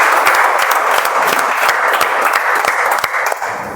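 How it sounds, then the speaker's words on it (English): A meeting audience breaks into a big round of applause, brisk, close clapping from a small crowd that stays loud and busy before thinning out near the end. "Give a big round of applause."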